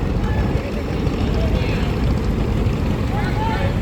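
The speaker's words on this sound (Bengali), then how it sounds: "তো দেখুন যাত্রী না পেয়ে কিন্তু আবারও ট্রলারটি চলে যাচ্ছে।" An engine-powered trawler boat pulls away from a river ghat, a loud continuous low engine rumble under steady background noise.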